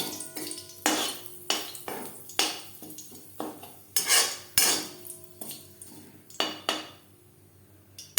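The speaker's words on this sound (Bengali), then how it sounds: "আর ভেজে নেব কারি পাতা।" A spatula scrapes and clinks against a metal pan as curry leaves are stirred in oil, in a string of sharp, irregular knocks about every half second, close and alone.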